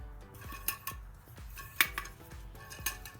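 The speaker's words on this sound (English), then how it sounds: "you want to move this up and down to make sure that you hear the float moving around" Float rattling inside the fuel gauge sender of a Porsche 944 as the unit is moved up and down, giving light metallic clinks and knocks in an irregular rhythm, close up with no talk.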